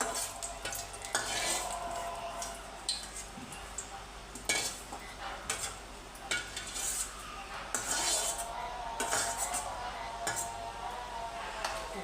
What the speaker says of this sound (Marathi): आता ही थोडा कढीपत्ता भाजला बघा.